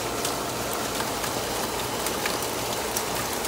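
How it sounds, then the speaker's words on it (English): Steady rain falls around an outdoor swimming pool, a dense even hiss of drops on water and surrounding surfaces with scattered louder patters, continuous throughout with no talk. "It's raining on us."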